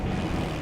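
A short burst of aircraft engine drone, a propeller plane sound effect in the Hearts of Iron 4 strategy game, holds as a steady, fairly loud hum with no speech.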